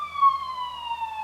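A distant siren wails in a long, slowly falling tone, steady and clear against an otherwise quiet background.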